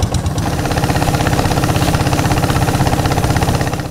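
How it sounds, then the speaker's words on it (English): A long-tail boat engine on Inle Lake in Myanmar runs loud and close, a steady rough throbbing drone with a fast regular pulse throughout, no voices over it. "Right now we're on the Inle Lake, in a long-tail boat. It makes a lot of noise"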